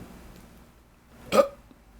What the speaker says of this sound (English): relieving stress in the form of belching